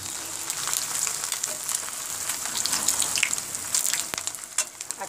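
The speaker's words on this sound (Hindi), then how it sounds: "यह हमारा घी गरम हो गया है, अब हम एक एक करके पीसेस डालते जाएंगे और फ्राई करते जाएंगे।" Bread pieces fry in hot ghee for a Shahi tukra dessert, a steady close crackling sizzle with bright spitting pops throughout and no voices.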